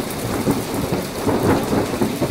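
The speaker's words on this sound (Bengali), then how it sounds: "তত সময়ে ঝিরঝির করে বৃষ্টি শুরু হয়ে যায়।" Light rain patters steadily with a low thundery rumble underneath, a continuous soft hiss of drizzle on a dark open field.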